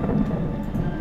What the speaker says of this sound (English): Great, it's thundering.